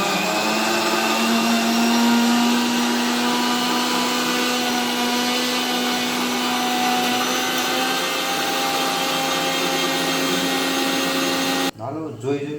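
A blender grinds watermelon for juice in a loud, steady whir with a constant motor drone for about twelve seconds, then cuts off abruptly near the end.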